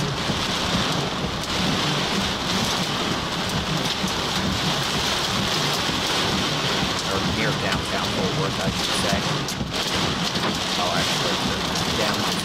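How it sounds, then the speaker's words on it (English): Heavy rain pours during a severe thunderstorm in downtown Fort Worth, Texas, with dime-size hail and strong winds, making a constant dense roar while someone talks over it. "So heavy rain, dime-size hail, strong winds"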